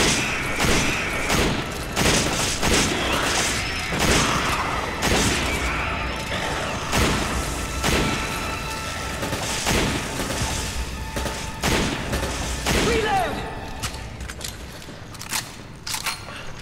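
Sniper rifle shots in the video game Resident Evil 5, a series of sharp loud cracks spaced a second or two apart with mechanical clatter between them, in close combat.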